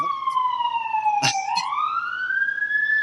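An emergency vehicle siren wails outside, one loud sweeping tone dipping and rising again, with a brief clatter in the middle and no talking.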